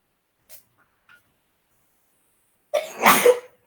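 A single close, loud sneeze after a quiet pause, sharp and breathy with a brief intake just before it, heard alone.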